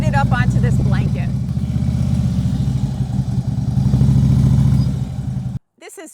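A motorcycle rides slowly up onto a blanket with a close, rumbling engine at low revs and some clattering. A person talks over it throughout.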